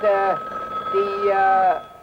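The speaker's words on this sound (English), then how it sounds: "Answer the phone, Mrs. Brown." An old telephone bell rings in two short bursts with a brief gap between them, loud and close, with a voice talking over the rings.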